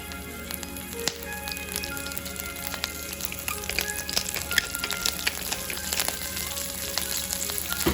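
Broccolini fries in oil in a pan, giving a continuous crackling sizzle with scattered sharp pops and occasional stirring clicks, close and alone with no talk.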